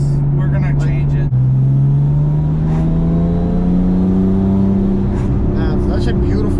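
A 1000-horsepower Porsche 911 997 with stiff coilover suspension, its engine droning loudly from inside the cabin and climbing steadily in pitch through a gear, after one quick shift near the start, while people talk over it.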